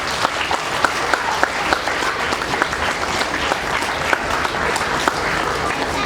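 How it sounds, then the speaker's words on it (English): Audience applause at a school's year-end assembly, a dense, steady wash of many hands clapping that fills the room for several seconds, loud and sustained, with a few sharper individual claps standing out. "I think you need to give a clap to yourself."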